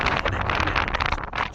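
Strong wind on a high mountain road toward Leh buffets the microphone in a loud, continuous rushing roar with gusty swells, dominating the scene without clear speech.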